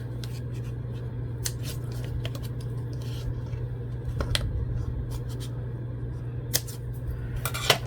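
Scissors snip through paper while a trifold folio is made from scratch, giving a series of short, crisp cuts scattered over a steady low background hum, close and moderately loud with no talking.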